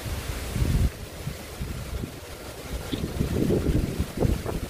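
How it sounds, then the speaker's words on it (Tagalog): Strong typhoon wind buffets the microphone in loud, gusty rumbles, with a steady roar of rushing air throughout and no voices. "Malakas yung hangin."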